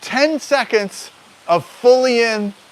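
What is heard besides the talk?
No everyday noise stands out behind the speech.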